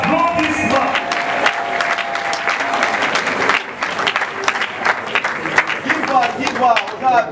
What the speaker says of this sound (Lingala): à qui nous demandons de se lever sous vos applaudissements